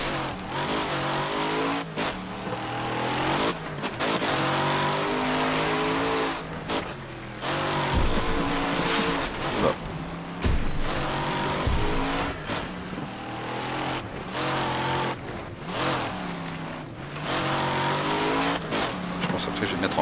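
A racing car engine in the demolition-derby video game Wreckfest revs hard and drops again and again, with gear shifts and scraping impacts cutting through the loud, continuous roar.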